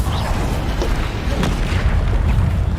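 Heavy booming blasts of a Bombarda explosion spell in the video game Hogwarts Legacy, dense low rumble rolling continuously with overlapping bursts and no pauses.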